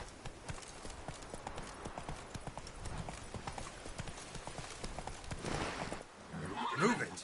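Roach the horse gallops in The Witcher 3, a steady rapid clip-clop of hooves running throughout, with a brief whinny near the end and voices speaking over it.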